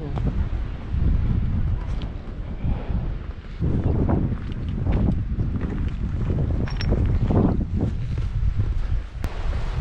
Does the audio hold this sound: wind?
yes